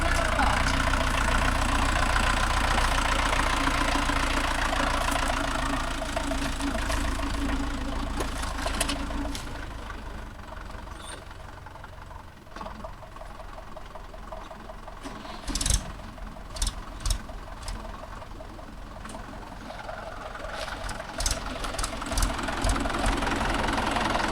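A Mahindra Yuvo Tech Plus 585 DI tractor hitched to a 9-tine cultivator chugs steadily with a loud, close engine rumble while reversing, with occasional clanks over it and voices talking in the background.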